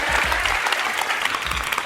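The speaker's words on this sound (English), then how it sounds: "Give yourselves a round of applause." A room of people clap for themselves, a short burst of dense, close applause.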